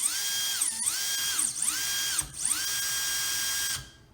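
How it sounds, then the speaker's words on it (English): Small-scale SCX24 Toyota FJ45 RC crawler with plastic gears and transmission whining as it drives, a steady high electric motor and gear whine that rises and dips in pitch with throttle changes, close and continuous before cutting off. "Just so quiet with the plastic gears and the transmission."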